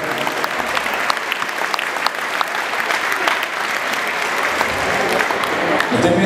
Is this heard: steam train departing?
no